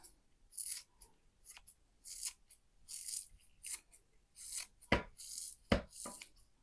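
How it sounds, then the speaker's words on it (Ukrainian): Fresh dill being chopped with a knife on a board, a series of close, crisp cutting strokes in irregular bursts, some quick and light, a few sharper knocks near the end, with no talk. "А за моїм бажанням я хочу порізати весь кріп."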